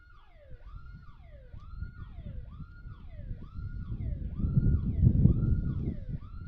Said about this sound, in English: Got the sirens.